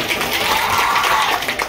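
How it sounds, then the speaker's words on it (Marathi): Broad, steady audience clapping at a Marathi Home Minister-style game show for a woman contestant, a dense wash of applause throughout the short stretch. "आमच्या वहिनीसाठी जरा जोरात टाळ्या झाल्या पाहिजे"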